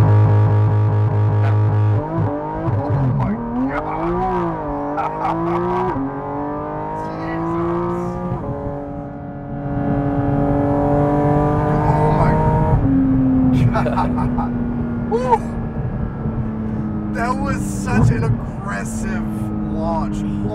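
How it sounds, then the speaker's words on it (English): Porsche GT4 RS launch control start: the engine revs climb steadily and loudly, then the car surges off accelerating hard, with excited voices talking and exclaiming over the sustained engine roar throughout. "Start accelerating, and then it's going to start, the RPMs are going to start going high, and just let the brake go."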